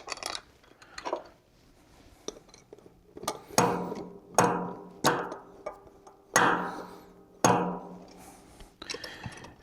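Metal bolts clink and clatter as they are set into a Vemag HP-C/E four-point bearing housing, a series of sharp, close, distinct knocks and rattles spaced a second or so apart with no talking.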